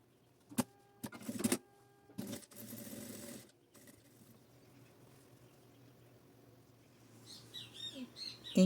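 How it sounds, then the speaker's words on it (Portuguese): Small birds chirp in quick high bursts toward the end, over a steady low traffic rumble outdoors, with a few short mechanical whirring bursts early on from nearby sewing work. "Não repare ao fundo, barulho de passarinho, trânsito, não tem jeito."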